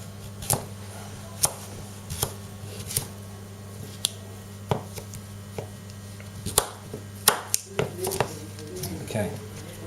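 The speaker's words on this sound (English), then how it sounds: "now let's chop up the butternut squash" Sharp, irregular knife chops as a Tops Lite Trekker survival knife cuts through butternut squash, about a dozen crisp close strikes over a low steady hum, some clustered in quick bursts.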